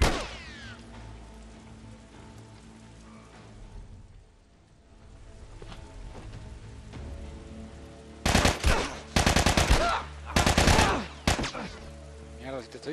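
Gunfire in The Last of Us on PS3: several loud, sharp bursts of shots in quick succession late in the clip, over a low game background with a voice talking earlier.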